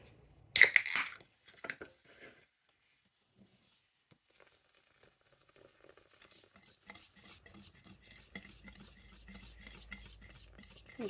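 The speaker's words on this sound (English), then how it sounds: "Go ahead and stir that in real good." Orange soda being stirred into boxed cake mix in a bowl: a loud clatter at the start, a near-silent pause, then a steady run of soft scraping and wet mixing strokes.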